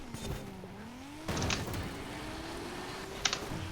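Toyota Supra launching at a drag start in the Forza Horizon 5 racing game: a sustained engine drone rising through the gears, with short tire-squeal bursts at each shift and no talking.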